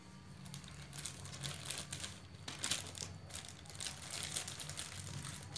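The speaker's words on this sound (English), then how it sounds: "Then we wrap with the plastic bag." A plastic bag crinkles and rustles steadily as it is wrapped around a bundle of mixed arabica and excelsa coffee, a quiet, continuous crackle with no talking.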